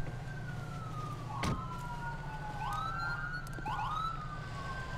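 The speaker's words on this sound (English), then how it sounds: "Ambulance is rolling up." An ambulance siren wails in rising and falling sweeps at moderate distance over a low engine rumble at a roadside scene, with a brief thump partway through.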